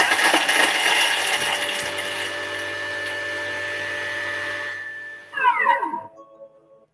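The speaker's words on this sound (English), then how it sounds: "5 seconds on speed 8, and that'll just chop the garlic for us" A kitchen machine chops garlic on speed 8 for five seconds, giving a steady high whirring blade hum that ends in a brief rattling spin-down, heard close in a kitchen.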